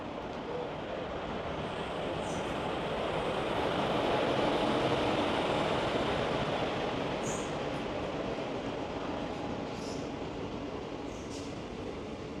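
A MEMU special train running between Coimbatore and Dindigul rumbles past in a steady, loud wash of wheel and track noise that swells slightly in the middle, with a few faint high squeals and no talk.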